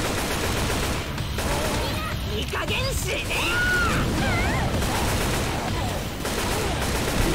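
Dense, continuous gunfire aimed at the Tank in Left 4 Dead 2, loud and sustained under frantic shouting and cries from players.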